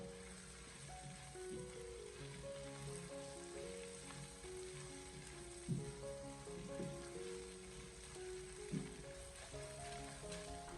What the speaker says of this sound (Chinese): 然后再继续的给它翻炒个半分钟左右，把葱花给它炒出香味